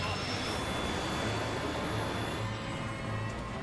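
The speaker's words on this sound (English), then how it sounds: "I feel the thrust of the engine re-engaging full throttle." A jet airliner's engines spool up to full throttle during a go-around, giving a loud, steady roar with a high whine running through it.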